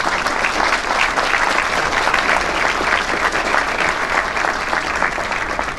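A conference audience applauds a judge with dense, sustained clapping that stays even and loud for several seconds, with a faint crowd murmur underneath.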